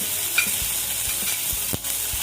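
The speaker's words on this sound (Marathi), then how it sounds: "हे थोडंसं परतून घेऊया" A paste of ginger, garlic and chili sizzles steadily as it is sautéed in a pan, with a few soft scraping stirs over the constant close frying hiss.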